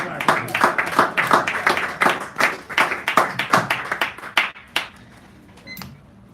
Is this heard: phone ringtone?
no